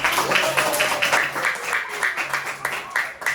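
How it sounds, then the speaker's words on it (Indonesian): Loud applause from a classroom audience at an artificial intelligence training session, dense rhythmic clapping that rises in bursts and continues steadily throughout. "Tepuk tangan yang keras."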